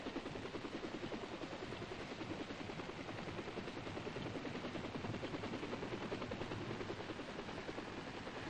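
A big military troop-transport helicopter's rotor chops steadily throughout, a dense, continuous rhythmic thumping with engine whine, loud and unbroken.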